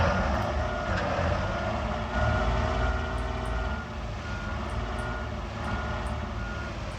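A DAF truck in Truckers of Europe 3 beeps steadily as it reverses, with regular high pulses sounding over a loud, constant diesel engine drone and no one speaking.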